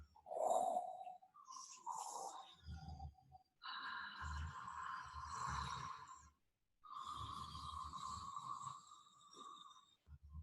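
Several people imitate snoring during a breathing exercise, giving a few separate rasping snorts and drawn-out vibrating snore sounds with pauses between, fairly close and quiet.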